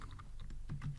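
Quick, light keystrokes on a computer keyboard while entering an SQL query, a short burst of about eight close clicks with no voices.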